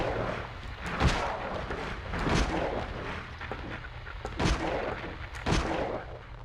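Handgun shots ring out in the survival horror game Silent Hill Origins, several sharp booming reports spaced irregularly over a low rumbling game ambience, with no talk.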